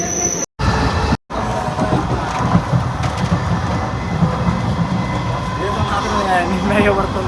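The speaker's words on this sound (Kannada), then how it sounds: "ಟ್ರೈನ್ ಬಂತು ಫ್ರೆಂಡ್ಸ್." A train rolls past with a continuous rumble and rhythmic wheel clatter, and faint squeals rise toward the end.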